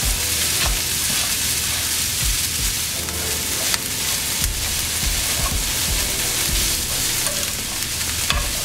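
Sausage, zucchini and onion sizzle and brown in a pan, a steady loud frying hiss broken by scraping stirs and small pops throughout.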